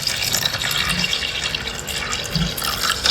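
Water poured into a tarantula's water dish, a close, steady trickling and splashing of liquid with small drips throughout, no voices.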